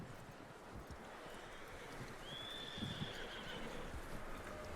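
A horse in the open world of Red Dead Redemption 2 lets out a rising whinny about midway through, above a steady bed of outdoor game ambience with soft hoof-like thumps.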